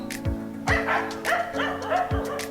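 Several dogs bark at a rescue and rehab shelter home to around 200 dogs, sharp repeated woofs and yips overlapping at close range with a steady background of more barking.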